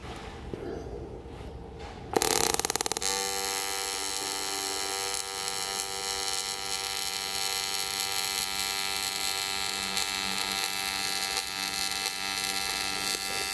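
Aluminum is being welded. After a couple of quiet seconds, a steady electric buzz with a strong hum starts suddenly and holds evenly to the end.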